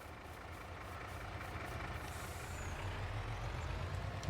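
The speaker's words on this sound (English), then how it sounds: "Gonna hop back in the truck." A truck in Farming Simulator 22 rumbles steadily with a low engine drone and broadband road noise, heard from close by and alone, with no talking.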